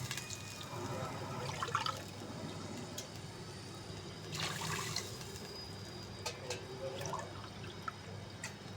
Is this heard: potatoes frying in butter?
no